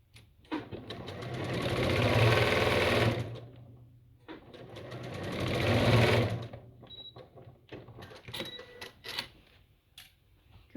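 A sewing machine back-stitches a fabric basket in two sustained whirring runs of about three seconds each. Between and after them come short mechanical clicks and handling sounds, all close by.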